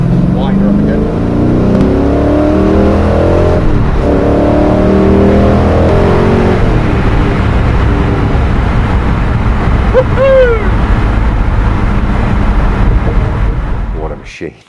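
Ultima RS sports car engine, close and loud, revved repeatedly in rising and falling sweeps over about fourteen seconds before cutting off, with occasional voices.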